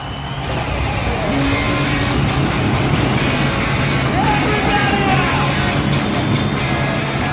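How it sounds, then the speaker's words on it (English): Race car engines rumble into life in a Talladega Nights racing video game, a steady, loud broadband roar of motors held throughout with faint pitch sweeps on top. "Drivers, start your engines!"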